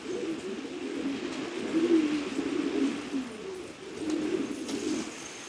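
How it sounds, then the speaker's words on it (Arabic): Pigeons on a rooftop coo in soft, low, repeated rolling calls, close and fairly steady, with a few faint chirps in the background. "طبعا فرجيكم الحمام وهي بتحط"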